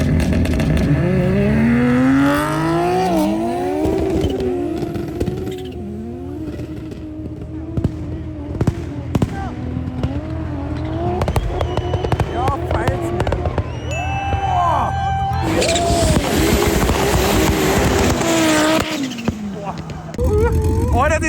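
Powerful 1000+ hp cars such as a Golf 2 and an Audi A4 drag racing up a ski slope, loud engines revving and roaring with sharp bangs and crackles, a crowd and voices talking over the continuous noise.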